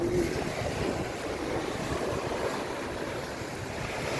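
Ocean waves roar steadily in rough, stormy weather, a continuous wash of surf with no clear breaks and no voices.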